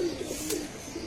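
Pigeons coo softly in a large loft with perches for a couple of hundred birds, a low steady murmur of cooing with one brief brighter flutter mid-clip, no voices.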